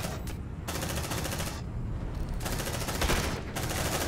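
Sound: sentry gun firing in the video game Aliens: Dark Descent

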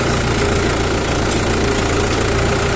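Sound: tractor engine straining while plowing

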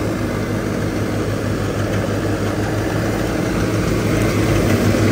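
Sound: 50 hp tractor engine with turbo upgrade

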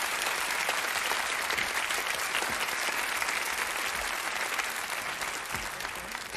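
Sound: audience applause for show winner

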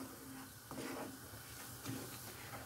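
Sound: stirring flour into melted butter and oil in pan

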